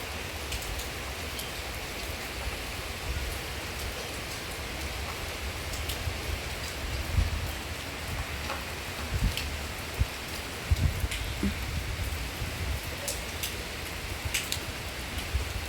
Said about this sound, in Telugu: సో ఫ్రెండ్స్ చూడండి, వర్షం పడుతుంది.